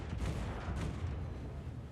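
Naval artillery fire from the battleship USS Minnesota in World of Warships, a deep sustained rumbling boom that rolls on steadily for a couple of seconds, fairly faint and heard alone.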